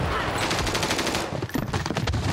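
Gunfire rattles in a shooter video game: loud, rapid automatic bursts fire almost without pause, with the rhythm briefly breaking about midway before the shooting resumes.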